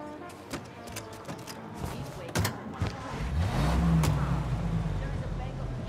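A car in the video game Mafia Definitive Edition, with a few thumps, then an engine revving up and rising in pitch as the car pulls away.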